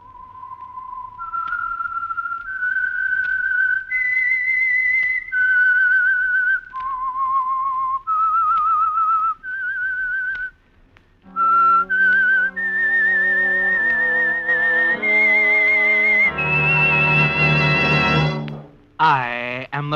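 A clear whistled melody, the theme of the radio program The Whistler, slow stepwise notes at first, then a brighter rising phrase with fuller tone, ending on a sharp high note.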